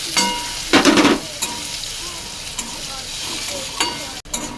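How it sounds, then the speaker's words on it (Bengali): Tomatoes and green chillies hitting hot oil over fried ginger and garlic for an egg curry, giving a loud burst of sizzling then a steady fry with occasional stirring scrapes; no talking. "এবারে আমি টমেটো আর কাঁচা লঙ্কাটা দিয়ে দেবো"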